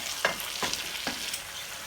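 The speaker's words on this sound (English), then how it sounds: "we're going to add in the rest of our salsa over here on this side" Salsa heating in a frying pan, giving a close, steady sizzle with three brief stirring scrapes, no talking.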